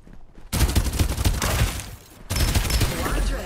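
Dense bursts of gunfire in the shooter game Farlight 84, with a loud, fast volley after a short quiet lead-in, a brief lull, then another sustained burst close up.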